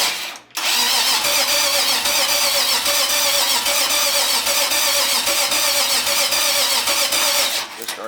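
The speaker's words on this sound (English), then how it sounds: "get the fuel pump running, and then we're just gonna arc the starter." A Mercedes engine cranks steadily on its starter without catching, a continuous loud churning whir for several seconds that begins abruptly and cuts off near the end.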